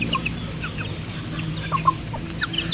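Native chickens on a small farm clucking steadily, with several birds close by giving short overlapping calls over a constant low background hum, no voices.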